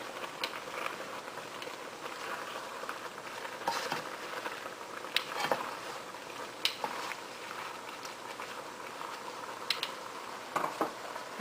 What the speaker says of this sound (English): Stir the salt in.